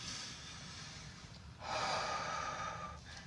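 A single deep breath taken during a short breathing exercise, a soft airy inhale that swells midway and then eases off, close and quiet against a faint hiss, with no talking.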